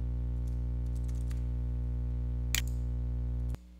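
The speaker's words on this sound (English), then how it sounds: "I hit the Enter key and type the text updates" A few light clicks of typing on a computer keyboard, with one sharper keystroke near the end, faint against a steady electrical hum.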